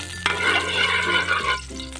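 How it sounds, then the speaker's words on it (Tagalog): Garlic sautés in hot oil in a pan for chicken feet adobo, giving a loud, continuous sizzle with a stirring scrape partway through. "nigisa natin tong bawang natin"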